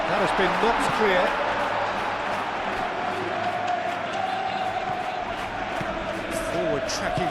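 A stadium crowd roars and cheers in an eFootball 21 La Liga match between Real Madrid and Girona, a broad, steady wash of noise running under a commentator's continuous talk.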